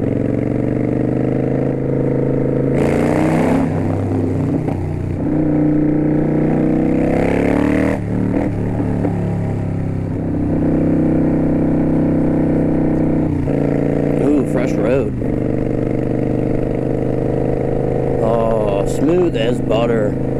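A Kawasaki Vulcan 900 Custom Special Edition cruiser ridden on back roads, its engine droning steadily with rises and falls in pitch as it accelerates and shifts, mixed with wind rush and a rider talking over it.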